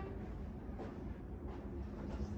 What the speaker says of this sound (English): There's some sort of train.